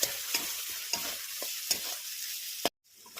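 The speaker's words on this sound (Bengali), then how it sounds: "রসুন ভাজা হচ্ছে।" Garlic frying in oil in a pan during home cooking of a red chicken curry, a steady crackling sizzle broken by repeated scraping stirs roughly every half second, close and moderately quiet, ending abruptly.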